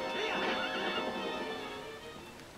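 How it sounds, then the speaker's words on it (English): Epona, the horse in the video game The Legend of Zelda: Twilight Princess, lets out a loud, close whinny that wavers and fades over a couple of seconds, with faint hoofbeats under it. "I hate this freaking horse sometimes"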